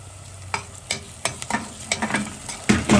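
Onion and pasta frying in a pan while being stirred, a steady close sizzle broken by a run of irregular scraping and clinking strokes that grow busier toward the end, with no voices.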